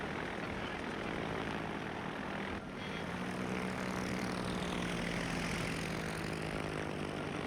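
Propeller-driven attack planes drone steadily in the World of Warships naval combat video game, a continuous layered engine hum that fills the whole stretch at moderate level, with a brief dip partway through.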